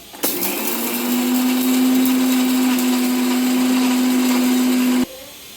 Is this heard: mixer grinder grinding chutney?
yes